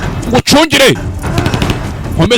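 Movie gunfire, bullets being shot in a war-film scene. Sharp bursts of shots are mixed in with loud shouting voices over about two seconds.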